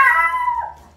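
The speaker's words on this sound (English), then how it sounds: "She woke up and started barking, so it was like extra loud." A dog gives a single loud, close howling bark that trails off into a whimper within about a second, startlingly near.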